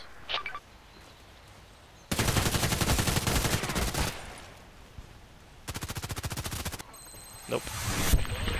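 Rapid bursts of Glock 18 automatic gunfire in the video game Contract Wars, with two long, loud sustained volleys separated by quieter stretches and a brief extra shot at the start.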